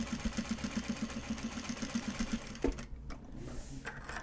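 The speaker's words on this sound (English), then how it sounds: "One more stitch and then turn, pivot," Domestic sewing machine stitching through Japanese fabric for card holders, a quick steady rhythmic whirr that stops partway, followed by a brief clack and faint handling noise.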